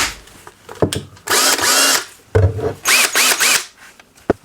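A Ryobi 18-volt cordless drill/driver whirs in two short bursts, spinning up and down close by, with small handling clicks and clatter between the runs.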